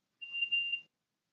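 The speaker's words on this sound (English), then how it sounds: "We're getting a beep" A single short electronic beep sounds from an unmuted participant's line on a borough council meeting call, clear and steady, then silence.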